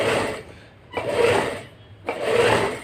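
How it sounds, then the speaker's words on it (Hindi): A sewing machine stitches blouse fabric in three short bursts separated by brief pauses, close and fairly loud, with no talking. "एक सिलाई लगा ले ताकि फैब्रिक जो है इधर उधर खिसके नहीं"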